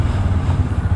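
A Bajaj Pulsar NS 160 motorcycle exhaust gives a steady, close, low rumbling note, loud and alone.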